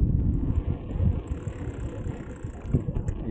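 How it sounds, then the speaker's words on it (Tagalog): Strong wind buffets the microphone of a cyclist riding on a road, a loud low rumbling roar that swells and dips continuously, with faint higher hiss above it. "Lakas ng hangin"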